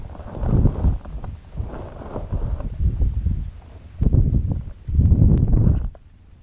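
Outdoors wind buffets the microphone in heavy low rumbling gusts, loud and close, rising and falling in waves on a yard about to be mowed before a hurricane, with no one speaking.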